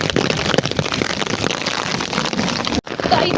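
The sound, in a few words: hailstorm in Himachal starting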